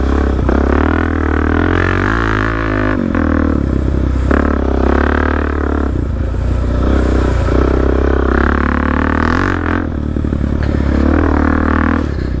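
Suzuki DRZ 400 dirt bike with an untuned Black Widow aftermarket exhaust, idling and revving loudly up close with a throaty, uneven rumble throughout, on a muddy trail.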